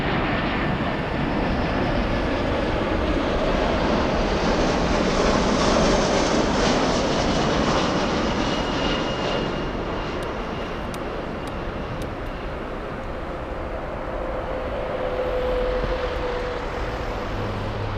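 Airbus A340-300 airliner at Frankfurt airport, a loud continuous engine roar that swells and slowly fades as the jet passes, with a broad rushing hum and faint whine over eighteen seconds.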